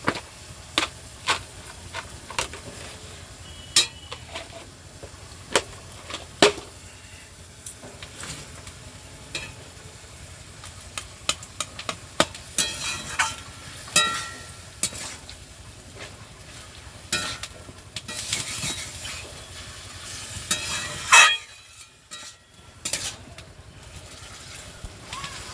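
Potatoes being stirred and fried in a pan, steady soft sizzle under repeated scraping clicks of a spatula, with a brief quiet gap near the end before stirring resumes.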